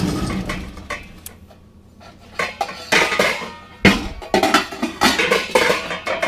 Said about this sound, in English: I use a large lid to one of my big pots, and I turn it upside down on there because it won't stay on the other way.